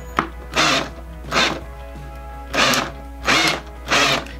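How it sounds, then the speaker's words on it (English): A power drill driving screws into boards whirs in five short bursts, each a second or less, separated by brief pauses, loud and close with a low hum underneath. "I'm gonna be using the drill to show you how it twists on your wrist."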